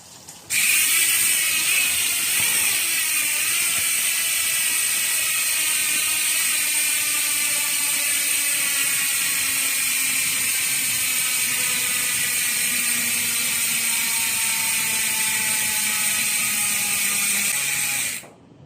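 A Hassns Pro 7 bicycle freewheel hub ratchets in a continuous fast, high-pitched buzz of clicks while the wheel spins down, steady and close for most of the clip.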